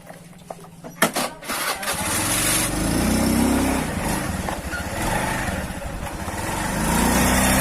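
A Honda Beat motorbike engine starts after a brief burst of clatter, then settles into a steady, close, mid-pitched idle that holds for several seconds with no talk.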